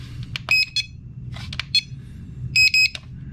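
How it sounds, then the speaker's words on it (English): Electronic beeps from a Sky Viper Fury stunt drone controller as it powers on, several short high-pitched tones in quick pairs over a low background hum, fairly close and clear. "there's a beep from somewhere"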